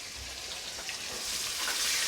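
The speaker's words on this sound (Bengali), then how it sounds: "মশলাগুলো দেব, কিন্তু তার আগে টমেটোটা একটু ভালো করে ভেজে নেব।" Chopped tomatoes fry in a pan over lowered gas heat, a steady close sizzle with soft crackling that swells slightly over two seconds, no voices.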